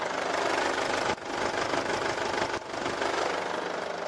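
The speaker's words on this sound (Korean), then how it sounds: "경유 엔진이지만 경유 엔진 치고 굉장히 부드러운 엔진 소음 만나보실 수가 있고요" A Mercedes-Benz GLK220 CDI diesel engine idles with an even, fairly soft knocking hum, close and continuous, interrupted by two brief dips in level.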